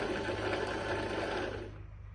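A sewing machine winds thread onto a bobbin with a fast, steady whirring hum up close, then slows and quiets near the end.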